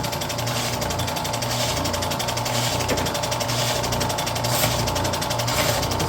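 A Ridgid 4x24 belt sander runs at a steady, loud pitch, a constant mechanical whir with a fast rattling buzz and no pauses.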